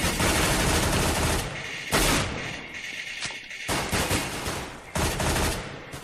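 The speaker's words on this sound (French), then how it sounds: "il m'a fait un headshot là" Gunfire from a Counter-Strike: Global Offensive match on Xbox 360, several loud bursts of shots in quick succession with brief gaps between them, harsh and close, no talk.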